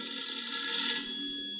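A telephone rings indoors, a bright continuous electronic trill sounding alone and moderately loud for the whole moment.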